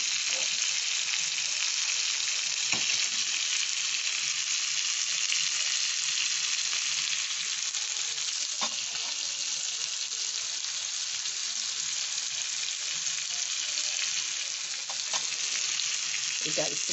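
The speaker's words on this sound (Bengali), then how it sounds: "এবার একটু ঘুরিয়ে ঘুরিয়ে ঘুরিয়ে ঘুরিয়ে ভাজতে হবে" Chicken reshmi kebabs frying on a slightly dished tawa, a loud, constant close-up sizzle that runs unbroken, with a few faint knocks as the pieces are turned.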